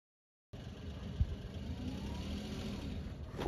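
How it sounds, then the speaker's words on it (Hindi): A car approaches along a road at night. The faint engine rumble grows steadily out of a quiet outdoor background, with a brief knock early on. "गाड़ी आ रही है देख"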